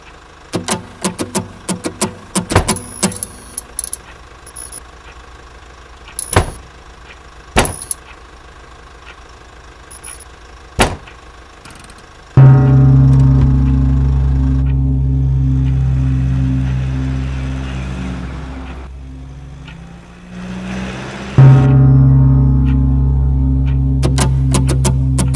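A car door slams shut amid scattered knocks and clicks, then an engine starts and runs loud and close with a steady idle rumble, briefly dipping before surging again as the car pulls away.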